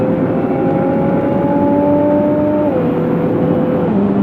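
A turbocharged car with traction control switched off accelerates hard toward 100-110 mph, turbo building boost: a loud, steady engine roar with whining tones that step down in pitch partway through, no talking.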